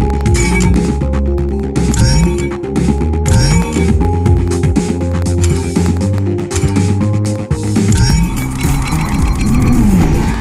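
Racing cars from the video game Blur roar and rev continuously and loud, with engine pitch sweeping up and down as they accelerate and shift, plus occasional tire squeals and clinks over a dense game soundtrack.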